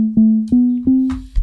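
A soft synth bass with a smooth, gentle envelope in a house production plays three sustained notes on one pitch, each with a rounded attack, alone and close, followed by a short thump.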